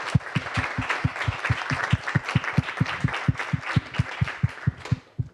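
An audience at a French-language summer university event applauds to welcome a vice-rector, steady rhythmic clapping that sounds like a few dozen hands, loud and close, fading out near the end.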